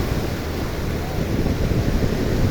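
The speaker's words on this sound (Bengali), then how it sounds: "এই যে জলের ঢেউ কত দূর চলে এসছে।" Sea waves wash up on a beach in a steady, rushing roar of surf mixed with wind buffeting the microphone, loud and continuous, without distinct breaks.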